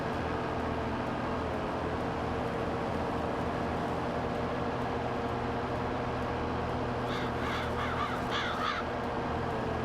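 Crows caw in a farm scene in Farming Simulator 22, a short run of harsh repeated calls near the end over a constant loud background hum of machinery and wind.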